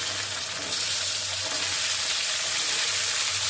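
Potatoes and onions frying in hot oil, with chicken to follow, give off a steady, close sizzle that holds throughout, broad and continuous with a faint low hum underneath.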